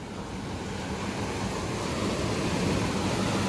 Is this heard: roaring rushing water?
yes